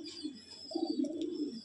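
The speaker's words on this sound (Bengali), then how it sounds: "এই পায়রাটা খুব সুন্দর পায়রা, মাদি পায়রা।" A female pigeon of Ostad Tapan Saha bloodline, kept at a loft in Bamangachi, gives a low, soft cooing burr that rises slightly and repeats in a short rolling phrase, close by and otherwise alone.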